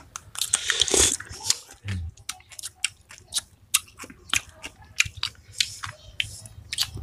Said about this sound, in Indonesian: Kita coba buah gendaria ya.